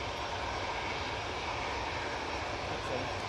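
Ryanair airliner arriving at Manchester Airport, a loud, continuous engine roar filling the whole stretch at an even level.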